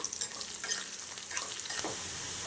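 Thinly sliced small onions sizzle and hiss steadily in hot oil in a pan, browning for a Tamil pumpkin sambar, with a brief stirring scrape partway through and no voices.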